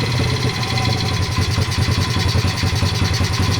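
Modded Honda pit bike engine running steadily right after carburetor adjustment, a close, loud, continuous rapid single-cylinder putter with slight rhythmic unevenness throughout.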